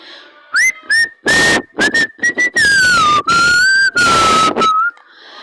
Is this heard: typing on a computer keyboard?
no